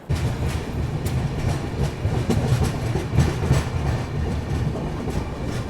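The New Delhi–Dibrugarh Rajdhani Express rolls along the railway track, a steady close rumble with rhythmic clickety-clack of wheels over rail joints running throughout, heard from inside the moving train.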